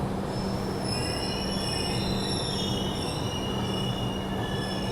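The Rani Chennamma Express rolls into a station platform, its wheels squealing in steady high metallic tones over a loud, continuous rumble of rail noise heard from on board.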